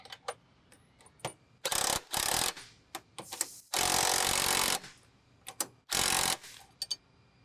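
A hand ratchet tightens a bolt on a Jeep XJ crossmember in a quiet shop. Several separate bursts of quick ratcheting clicks come close-up, with brief taps and pauses between strokes.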